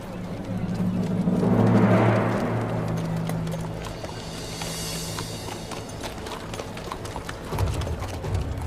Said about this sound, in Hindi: निकिया के तेकफुर ने कमांडर लुकास के सिपाहियों के लिए ये घोड़े भेजे हैं।